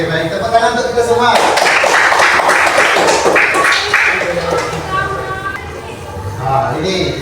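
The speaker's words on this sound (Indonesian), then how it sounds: "Tepuk tangan untuk kita semua." A classroom of students claps together in a burst of applause lasting a few seconds, with voices mixed in before and after.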